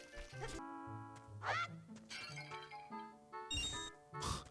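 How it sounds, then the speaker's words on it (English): Pots smash in a Nintendo 64 game, with several quick shattering crashes mixed into tinkling, melodic game music and chiming sound effects, fairly quiet overall. "Just smashing your pots."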